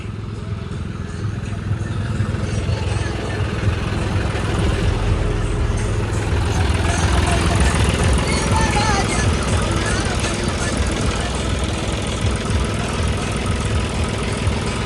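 A stuck tractor's diesel engine idling with a steady low rumble while it waits to be towed, running continuously under nearby voices talking throughout.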